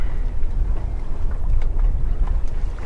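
Sailboat under way hull-on-water with a Windpilot Pacific wind vane steering, a Comfortina 32 sailing close-hauled and on a beam reach in light air; steady low rushing water and wind buffeting on the microphone throughout.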